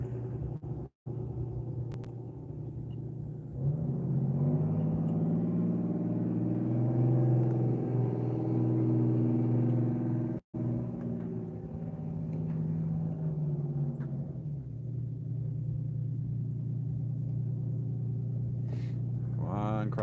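A fire truck drives down a boat ramp at a Florida fishing spot, its deep engine rumble swelling and holding for several seconds, then easing off, heard from a distance under a voice.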